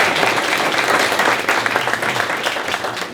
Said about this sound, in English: Everybody, just give them a round of applause.